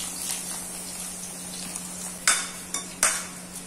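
Onions go into hot ghee with ajwain in a pan, giving a soft, steady sizzle beneath three short, sharp scraping or clattering stirs near the end, with no talking.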